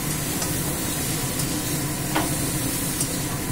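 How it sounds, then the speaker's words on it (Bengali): Boiled ingredients are stir-fried in a pan with a little oil, giving a continuous close sizzle broken by occasional scraping stirs. "এখন একটু একটু কষাবো, কষাবো এক মিনিটের মতো কষাবো।"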